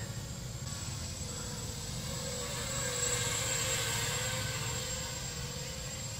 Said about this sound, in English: Well, Robert is now flying Acro mode.